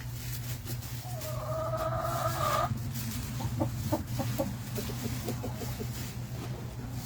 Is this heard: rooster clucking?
yes